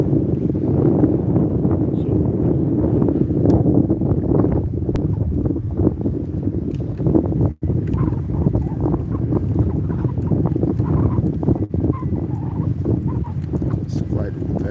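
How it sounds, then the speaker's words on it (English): Steady wind roars and buffets the microphone, a continuous low rush with faint background voices underneath. "Very windy."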